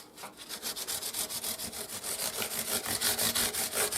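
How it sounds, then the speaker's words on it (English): A repaired broken guitar headstock being smoothed with a small piece of 400-grit sandpaper: steady, rhythmic back-and-forth rasping strokes, close and fairly quiet, about four strokes a second with no speech. "So now I'm just going over it with a little piece of 400 sandpaper here."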